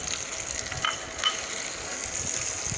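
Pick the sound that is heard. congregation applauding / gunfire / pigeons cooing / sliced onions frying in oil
sliced onions frying in oil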